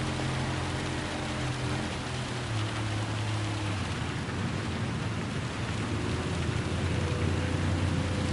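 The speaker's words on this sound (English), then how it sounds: "you can hear the thunder, the rain blasting all over your car" Heavy rain drums on a Toyota Tundra TRD Pro in the Gran Turismo 7 racing game, a constant broadband hiss under a low engine drone whose pitch shifts, with a faint rumble of thunder in the background.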